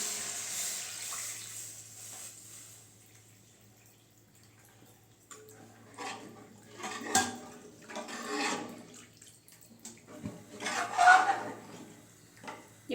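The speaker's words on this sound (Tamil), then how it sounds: "இப்போ நம்ம ஏற்கனவே கரைச்சி வச்சுருக்க புளி கரைசலை ஊற்றிக்கலாம்." Tamarind water poured into a pan for rasam, arriving in a few uneven splashing bursts over a quiet background hum, with a brief gurgle near the end.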